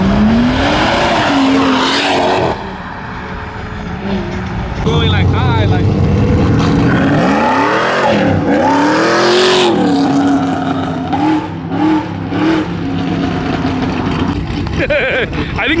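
Modified cars, including a C7 Z06, an M3 and a Subaru, leave a Texas car show with loud revving, hard acceleration and brief tire squeal as they pass close by, while crowd voices carry underneath.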